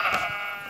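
A sheep in the Minecraft video game gives one short, loud bleat close up, alone with nothing else around it.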